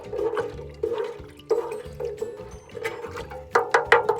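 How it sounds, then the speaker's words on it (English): Water poured onto soil at the base of tomato plants in a garden, a close splashing gush that surges and eases in repeated bursts, with several sharper splashes toward the end. "I'm just gonna go ahead and water at the base of the plant."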